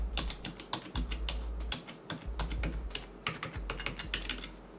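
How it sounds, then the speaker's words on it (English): Rapid clicky keystrokes on the numpad of a Logitech MK270 keyboard tap out a quick, uneven rhythm, close and clear, with no voices. "Numpad test for those doing accounting."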